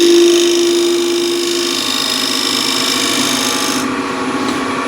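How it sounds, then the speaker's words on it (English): A scraper held against a wood bowl spinning on a lathe makes a steady close rasping hiss, with the lathe's tonal hum underneath that drops away partway through. "So in this case I'll just use a scraper."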